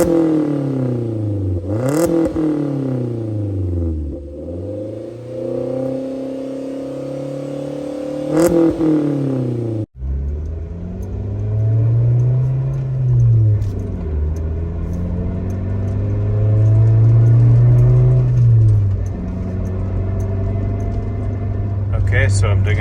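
A Suzuki Jimny Gen 4 JB74 with a de-catted exhaust revs repeatedly, engine note rising and falling in loud swells, first in sharp blips and then in longer held revs, close to the microphone with a brief voice between.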